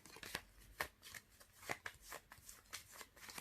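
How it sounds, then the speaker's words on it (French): Small playing cards being shuffled by hand at home, a series of soft, close riffling bursts with short pauses between them, quiet and without talk. "je vais mélanger mes petites cartes. Il faut bien les mélanger"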